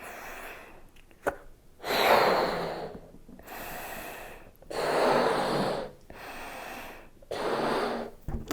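Several slow, deep breaths, each a long airy inhale or exhale separated by pauses, close to the microphone.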